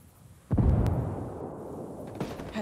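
A grenade blast in a first-person shooter game: one sharp, loud boom that rolls into a rumbling decay, with a second faint thump near the end.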